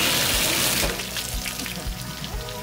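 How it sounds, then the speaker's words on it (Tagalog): Fresh spring water from Hibok-Hibok on Camiguin pours in a steady, close rush, loud at first and then settling to a softer continuous splashing flow, with no voices. "Magic tubig galing sa hibok-hibok"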